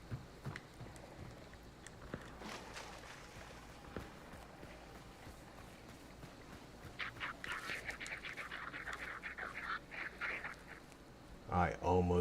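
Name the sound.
ducks quacking in video game Hunt Showdown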